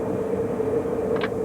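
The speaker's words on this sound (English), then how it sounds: "we use the thrust reversers by just unlocking them and extending them just a fraction" A Canadair Challenger business jet taxis with its thrust reversers unlocked and extended just slightly, giving a steady, continuous engine roar and whine with no breaks.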